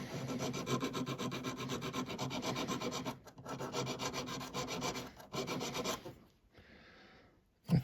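Needle file rasping against a handmade ring, a steady rhythmic back-and-forth scrape that runs loud and close for about six seconds, then stops, leaving a softer brief rub before a final knock.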